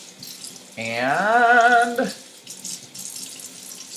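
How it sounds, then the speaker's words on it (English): Water runs from a tap for a bit more than a second while a fluffy makeup brush is rinsed, a steady splashing gush that cuts off abruptly, with faint room noise around it. "With these bigger, fluffy brushes, work your fingers through the bristles and then rinse it out"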